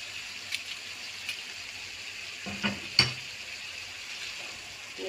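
Alexandrian-style liver seasoned with pepper harissa, salt and cumin frying in a pan, giving a soft, steady sizzle with a couple of brief utensil knocks as it is stirred; no talking.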